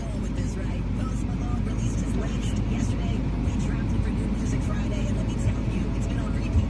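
Steady loud rumble of an automatic car wash running, a dense continuous wash of machinery and water noise with no clear breaks, people talking faintly underneath.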